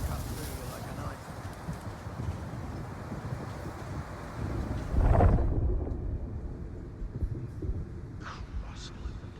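Storm ambience in the Unknown 9: Awakening video game, steady rushing wind and rain with a loud thunder-like rumble swelling near the middle before fading back to a quieter wash.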